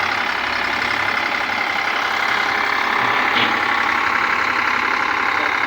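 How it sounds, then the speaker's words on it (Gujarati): A tractor engine runs at a stone quarry, a steady mid-pitched rumble that sounds close and continuous with no clear change in revving. "તો બે ટ્રેક્ટર જુઓ બેલાને ભરી ગયા છે"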